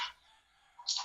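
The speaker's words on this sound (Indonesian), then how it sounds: "kakak, itu ayamnya bertelur." A hen clucks and cackles after laying an egg, two short bursts that open and close the moment with quiet between. The calls are faint and sit behind an open microphone during an online gathering.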